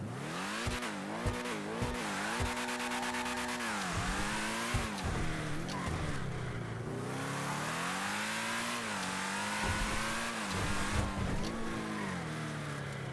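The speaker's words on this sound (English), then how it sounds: "let's quickly just take a listen to the LM87" The Benefactor LM87 race car in GTA Online revs hard and drops back again and again, its engine pitch sweeping up and down with gear changes. Tires squeal now and then, and the engine sounds loud and close.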